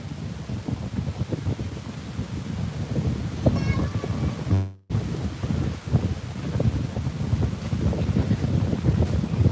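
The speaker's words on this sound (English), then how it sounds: "It's so windy here." Strong outdoor wind buffets the microphone with a steady low roar and gusty rumbling, broken by a brief dropout midway, no voices.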